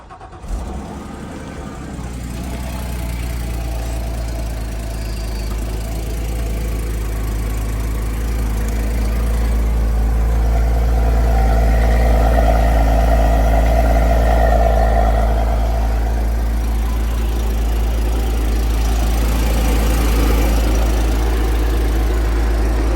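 A convertible Porsche Boxster with front-end damage and 132,000 miles cranks over and settles into a steady, close, rumbling idle that swells slightly midway, with a voice briefly heard.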